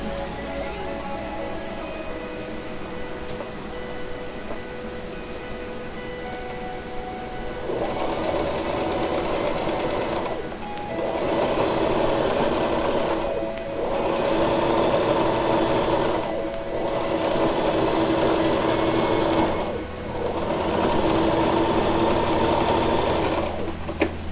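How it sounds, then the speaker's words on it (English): Sewing machine stitching a corset belt, running in several steady bursts of mechanical whirring separated by short pauses, loud and close with no talking. "Now we're going to take a small stitch right here next to it."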